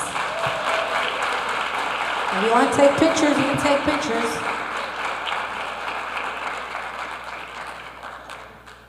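Applause from the audience at a public schools board of education meeting, a moderate steady patter of clapping that swells briefly and then slowly fades, while someone speaks over it.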